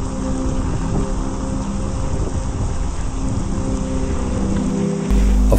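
Heavy rain pours onto a covered house terrace in open country, where cyclists shelter during a bike tour through hilly Italy. The roar is dense and steady and grows slightly louder near the end.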